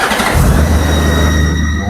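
A Honda Goldwing 1800 motorcycle engine is started nearby: a brief starter crank catches, then settles into a smooth, steady, loud idle.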